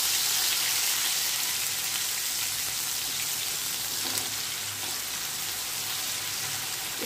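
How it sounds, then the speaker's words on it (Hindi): Ginger garlic paste hitting a hot pan in a Punjabi mushroom angara curry, giving a steady, loud broadband sizzle and frying hiss throughout with a few faint stirring scrapes, no voices. "1 टेबलस्पून में जिंजर गार्लिक पेस्ट ऐड कर रही हूँ। अच्छे से मिक्स करेंगे हम।"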